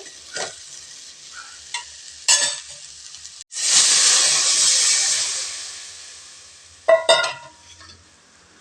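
Curry liquid with masala and tomato, cooking with drumsticks, hisses and bubbles loudly in a hot pan for a few seconds, then fades, with spoon scrapes and clinks before and after.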